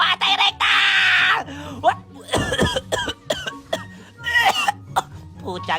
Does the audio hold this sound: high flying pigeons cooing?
no